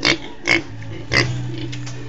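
A pig grunts three times in short, spaced bursts, close and fairly loud, with a low background hum between the calls.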